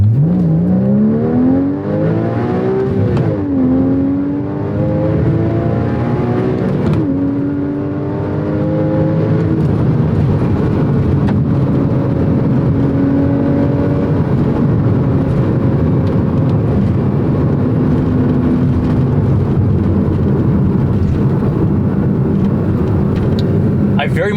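A Porsche 981 Cayman engine pulling hard under acceleration, loud and close, with the engine note climbing through rising sweeps as it shifts up through the gears, then holding a sustained drone, with a voice talking over it.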